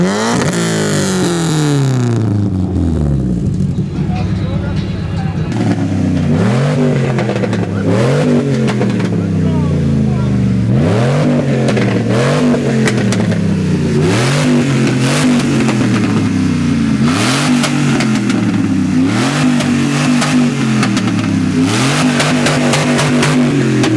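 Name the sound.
car engine revving at a car meet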